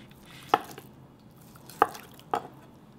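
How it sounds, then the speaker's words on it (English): A knife slicing pork thinly on a cutting board, three crisp, close taps spaced about a second apart against a quiet background. "Slice really thinly."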